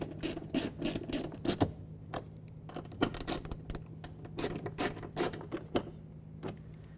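A ratchet drives 10mm bolts back into a side mirror on a 2007–2012 Nissan Altima, making rapid close clicking runs broken by short pauses and scraping handling noises.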